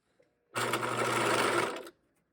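A sewing machine stitches the hem of fabric shorts in one steady, close burst lasting just over a second, starting and stopping abruptly in a quiet room.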